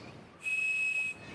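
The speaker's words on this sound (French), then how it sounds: "On pouvait boucher l'un des trous de ce sifflet et quand on soufflait, on obtenait une tonalité précise." A toy whistle with one hole covered gives a single steady, pure high tone of the kind that once unlocked long-distance phone lines, held for under a second, loud and close.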